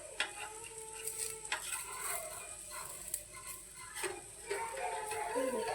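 A spatula scrapes and stirs a besan puda, a gram-flour pancake, as it fries in a pan, giving soft scratchy strokes and faint clinks over a quiet, continuous sizzle.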